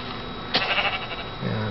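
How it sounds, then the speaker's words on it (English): A sheep in the video game Mouse World gives a single short, wavering bleat, close and fairly loud, followed by a low voice. "those are sheep"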